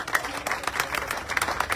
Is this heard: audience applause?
yes